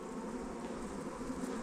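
Honeybees hum steadily in an open hive with a good brood pattern and the queen present, a continuous close, low-level buzzing drone with no talk.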